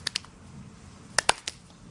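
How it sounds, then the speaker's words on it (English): Shad splash at the water surface while spawning on the Potomac River, a few sharp, brief slaps and splashes in quick clusters over quiet background water. "which is the fish coming to the surface, releasing eggs, and then the males fight to fertilize them."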